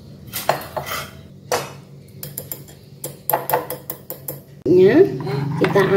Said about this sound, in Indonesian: Kita aduk sampai merata kembali.